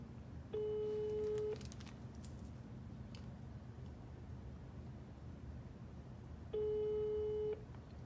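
Telephone busy signal on a failed call: two steady tone bursts about six seconds apart, moderately loud, over a low background hum with no speech during the tones.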